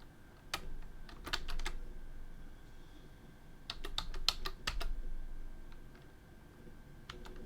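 Computer keyboard typing in quick irregular bursts of clicks, with a pause in the middle, close and fairly quiet over a low background hum.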